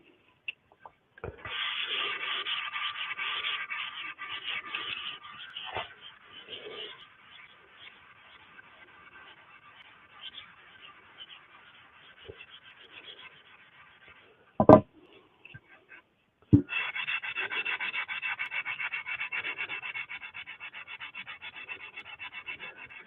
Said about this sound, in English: When I'm doing final sanding like this,